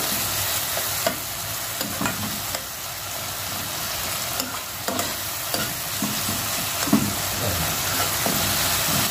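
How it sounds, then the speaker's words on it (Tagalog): Garlic, onion, tomato and ginger sauté in a pan for kinamatisang pampano, a loud steady hiss of frying with scattered light stirring knocks throughout. "Natin ang ating ginigisang bawang, sibuyas at kamatis at luya."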